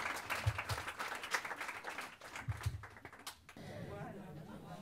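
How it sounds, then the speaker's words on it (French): Applause from a crowd for a few seconds, clapping thinning out, then dying away into room noise with faint voices. "On va tous les applaudir encore une fois"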